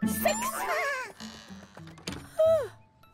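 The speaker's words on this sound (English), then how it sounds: "6 sheep ready for sleep." Cartoon sheep give a couple of wavering bleats, one long and one short, against quiet, sparse sounds.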